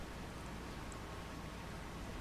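Steady, dense rain hiss in Farming Simulator 25, a continuous even wash of falling rain with no talk over it.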